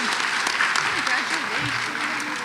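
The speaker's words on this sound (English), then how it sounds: "So let's give Cindy a round of applause." Sustained audience clapping at a state history competition awards ceremony, with voices murmuring and talking faintly beneath the applause.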